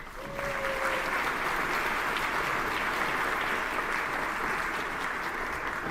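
Warm applause from an audience at a housing talk greets Monty Anderson and Felicity Maxwell, a steady, dense wash of clapping that rises quickly and holds evenly throughout.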